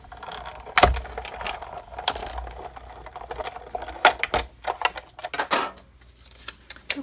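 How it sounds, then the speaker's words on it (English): A Big Shot die-cutting machine with a magnetic platform and cutting pad cutting out a stitched circle from card, with close mechanical clicks and a cranking, ratcheting rattle in uneven bursts. "I've got the Big Shot with the magnetic platform and a cutting pad, and I'm going to cut out the stitch-shaped circle"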